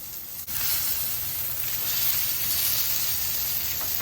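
A New York steak sears in a hot pan with a steady, close sizzle and hiss that runs unbroken after a brief knock at the start.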